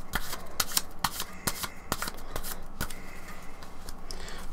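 A deck of playing cards is shuffled during a board game review, giving a series of sharp, close riffling bursts and snaps in an uneven rhythm, loud and alone without talk.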